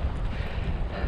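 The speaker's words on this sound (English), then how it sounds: "But as you can hear, it is, the wind's picked up again." Wind buffets a GoPro microphone fitted with a furry windshield out in the Kent countryside, a steady loud low rumble filling the whole short stretch with no voices.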